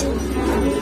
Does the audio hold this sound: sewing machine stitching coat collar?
no